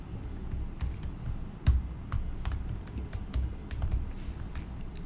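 Steady typing on a computer keyboard, a close and continuous run of rapid key clicks with one louder keystroke partway through, over a low background hum, with no speech.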